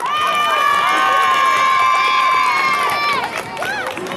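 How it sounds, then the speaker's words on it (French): Spectators at a small independent wrestling show in Quessy cheer and shout loudly throughout, with high-pitched voices and whistling-like tones over the crowd noise and a brief dip near the end. "bravo, on peut les applaudir"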